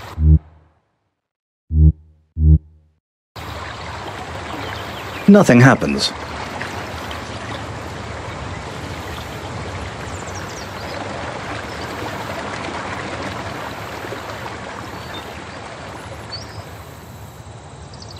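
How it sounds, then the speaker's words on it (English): Steady rushing water in the Colossal Cave adventure game, a continuous broadband wash that starts abruptly after a few seconds of short spoken phrases and then runs on evenly with a brief louder burst near the start. "You see rushing water."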